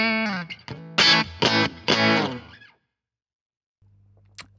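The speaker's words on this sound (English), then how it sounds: "four is if you split the bridge humbucker, so you're just getting one of the coils, just like before. This is now a single coil." Gibson Les Paul Standard electric guitar with its bridge humbucker split to a single coil, playing a few loud, bright plucked notes and chords that ring briefly and stop, followed by near silence with a faint hum.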